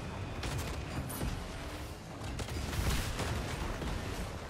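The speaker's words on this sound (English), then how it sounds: "Is that somebody shooting behind us?" Video game gunfire behind the players, a dense rattle of distant shots and bursts forming a continuous crackling barrage, fairly faint and steady with no talk over it.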